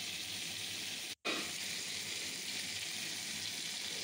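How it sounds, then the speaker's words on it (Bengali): Rohu fish frying in hot oil gives a steady, close sizzle that runs throughout, broken once by a very brief silent gap, with no voices. "প্রায় হয়ে এসছে মাছ ভাজা,"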